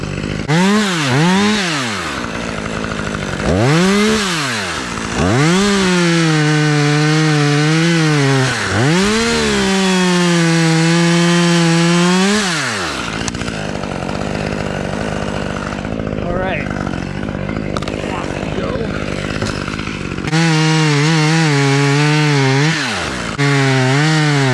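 A chainsaw revs and bogs through repeated cuts into elm tree wood close by, with rising and falling engine pitch across several bursts and a steady stretch of cutting in between.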